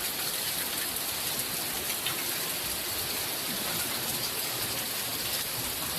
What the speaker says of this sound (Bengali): কি বৃষ্টি নামতাছে একটু বুঝতে পারতেছেন আপনারা?